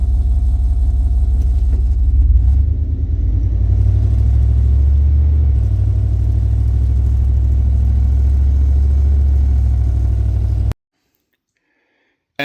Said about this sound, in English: even with just the exhaust, it's just got a Flowmaster that's dumped under the cab. This thing rattles so much.